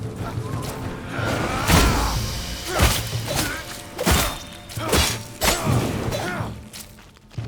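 Cutting weapon strikes against a plant enemy in the fantasy survival game Enshrouded, with a series of sharp, crunching impacts landing about once a second, mixed with game effects and a voice talking over them.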